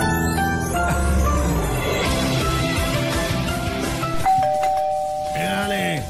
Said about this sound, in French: c'est la sonnette.